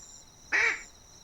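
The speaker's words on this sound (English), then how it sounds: "Is that a duck?" One short, nasal duck quack by a lake in the Dolomites, fairly close and clear against a quiet background hum.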